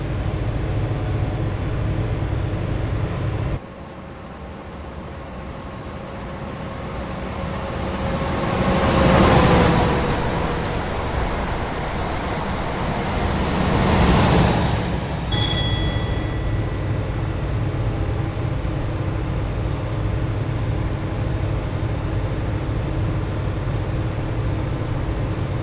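A Valenta-engined HST in Train Simulator, running on the York to Sunderland route at around 70 mph, keeps up a steady engine and rail drone with a high whine. The sound swells twice as it passes through sections, with no talk.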